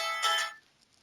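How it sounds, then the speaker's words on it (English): A phone ringtone chimes briefly, a bright tonal burst of about half a second that cuts off abruptly, leaving near silence. "Is that your ringtone? That's an awesome ringtone."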